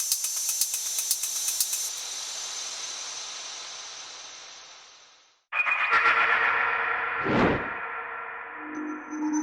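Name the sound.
hi-hats processed through Eventide Blackhole reverb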